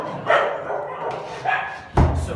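Stray dogs barking in short bursts at close range, with a sharp bang and a person's voice mixed in among the yips.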